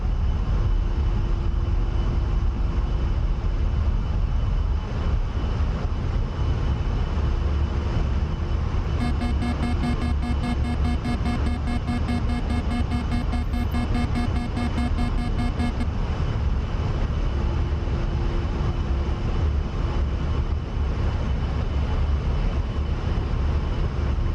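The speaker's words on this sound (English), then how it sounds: "Not a bad takeoff at all" An A-10A jet in the DCS flight game takes off with a steady, loud engine roar that fills the whole stretch. A cockpit tone pattern beeps for several seconds midway, and no one speaks.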